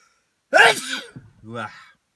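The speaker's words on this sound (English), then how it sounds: "Big sneeze." A single loud, close sneeze bursts out after silence, followed by a short voiced exhale.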